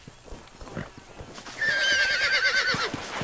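Horse in the video game Red Dead Redemption gives a loud, wavering whinny after a short stretch of hoof clip-clops and faint game sounds, close and clear.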